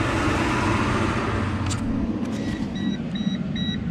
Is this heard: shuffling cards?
no